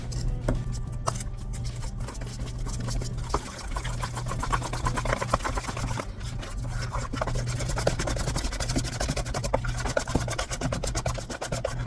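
Honey and olive oil are stirred together in a bowl for pizza dough, making a steady scraping, rubbing sound with small clicks that carries on close by and unbroken with no voices.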